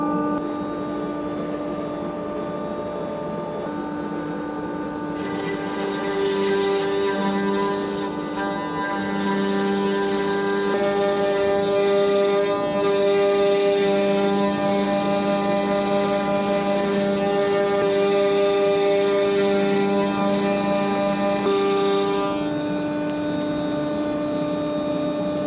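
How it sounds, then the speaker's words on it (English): A machine cuts plywood in a boatbuilding workshop with dust collection running, producing a steady droning hum with tonal whine that swells midway and holds, no talking over it. "The plywood is attached there, and now we'll just cut it off."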